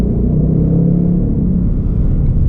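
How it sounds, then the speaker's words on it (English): The engine of a 2021 Ford Mustang Mach 1 with a 10-speed transmission kicks down under throttle, a steady, loud, deep rumble heard from inside the car with no talking. "If I just give it a little throttle,"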